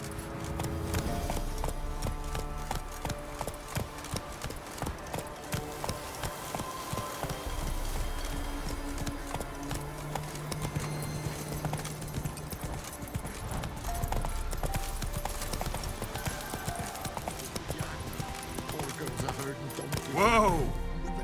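Roach the horse's hooves clip-clopping steadily in The Witcher 3: Wild Hunt, a continuous rhythmic trot under game music and spoken dialogue, with a louder burst near the end.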